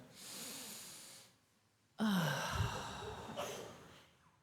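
A congregation at a Sunday church service draws a deep breath together, a soft collective inhale followed after a pause by a louder, fuller exhale with some rustling, no one speaking.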